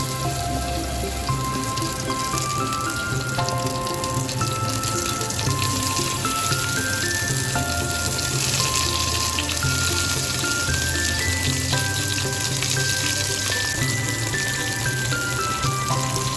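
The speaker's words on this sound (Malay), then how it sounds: "Mula-mula kita goreng udang dengan minyak secukupnya terlebih dahulu." Steady crackling sizzle of shrimp frying in hot oil, continuous and close, with a melodic tune playing over it throughout.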